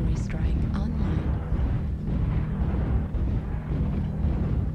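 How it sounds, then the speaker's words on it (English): Artillery strike explosions in War Thunder-style tank combat game: a continuous heavy low rumble of blasts and booms, loud and close, with dense overlapping impacts throughout. "Artillery strike online."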